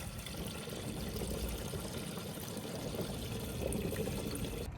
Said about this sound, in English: And in goes the screen wash.